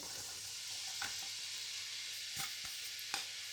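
Chopped onions frying in a pan of hot oil, a steady close sizzle broken by a few brief stirring clatters, with no talking.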